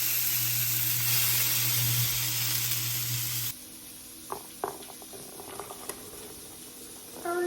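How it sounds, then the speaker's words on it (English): Meat browning in a hot pan before going into a crock pot, a loud steady sizzle for the first half that drops off sharply, leaving quieter crackles and scattered pops and clinks of handling. "We're just going to brown this on all sides and then put her in the crock pot."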